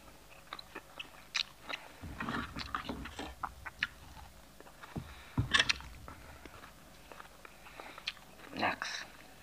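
Raw capsicum (bell pepper) being bitten and chewed close to the mic, ASMR style, with crisp crunches in scattered bursts and quieter chewing between them.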